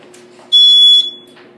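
Smoke detector in a home with a faulty fire alarm system giving a single loud, short electronic chirp of about half a second over quiet room noise.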